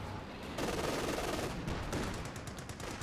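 Sustained automatic machine gun fire in a Company of Heroes battle, a loud dense rattle of rapid bursts running almost the whole time, with brief gaps and other gunfire mixed in.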